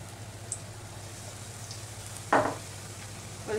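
Battered brinjal slices for Kolkata-style baigni being dropped into hot oil, a soft steady sizzle with a brief louder burst of frying as a slice goes in, no talking.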